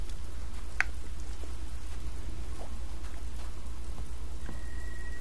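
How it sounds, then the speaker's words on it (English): Rain falls in the game Fable II, a steady soft hiss of drops over a low rumbling bed with a few scattered clicks and taps, continuous and even, with no talking. "Oh, rain, glorious rain."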